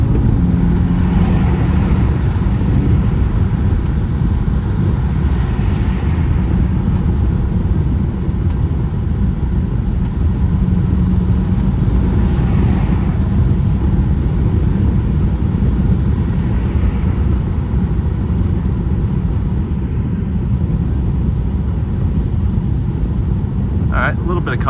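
A BMW M6 cruises at night with a window cracked open, a steady engine hum blended with rushing wind noise throughout, rising and easing gently with the drive.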